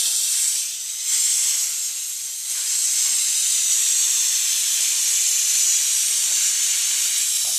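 A steady, loud aerosol undercoating spray hisses almost continuously into a hole on a 2012 VW Golf TDI Wagon, with two brief dips where the nozzle eases off before resuming.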